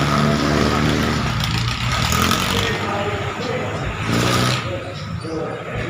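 A car engine revs and roars at a car contest, loud and near, with surges and dips in intensity, while people talk over the noise.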